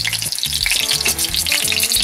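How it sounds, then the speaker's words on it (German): Pike-perch fillet in an egg coating sizzles in a hot pan, with a steady, bright frying hiss running through the whole stretch alongside low tonal sounds. "Und dann brutzelt schon unser Zanderfilet"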